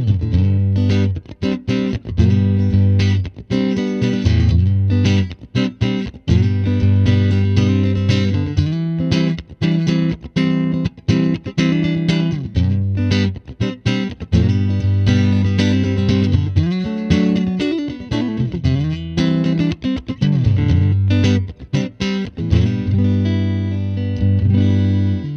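An electric guitar, a Fender Michael Landau 'Coma' Stratocaster through a Fender Super Reverb Tone Master amplifier, plays loud, sustained chords and riffs with a warm, slightly driven tone, heard alone with short pauses between phrases.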